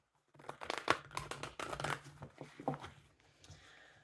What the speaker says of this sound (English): I've been shuffling for a bit, so I'll do like 2 more shuffles